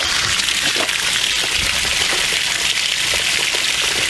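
Water drains steadily from an RV fresh water tank onto rocks, a loud, continuous splashing rush with no pause throughout.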